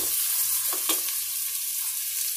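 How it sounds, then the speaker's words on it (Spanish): Onion, bell pepper and chili frying in a pan, a steady sizzle with a few soft stirring scrapes, close and alone. "todo esto vamos a esperar que se fría un rato, 5 minutitos"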